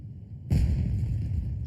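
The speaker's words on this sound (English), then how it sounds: "A huge firework." A single loud firework burst in the Genshin Impact video game, a sudden boom after a quiet moment that settles into a sustained crackling rumble with ringing high tones.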